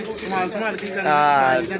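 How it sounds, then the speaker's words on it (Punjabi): Close pigeon cooing, a low throaty warble repeated twice in quick succession, loud and clear. "ਜਾਨੀ ਅੱਛਾ ਕਬੂਤਰ ਮੂੰਹੋਂ ਬੋਲਦਾ ਯਾਰ"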